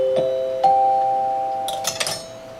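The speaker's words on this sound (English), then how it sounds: "Oh, you got your NBC chimes there," A set of NBC chimes is struck in three clear, sustained bell-like tones. A few soft clicks and knocks follow as the tones ring on and fade.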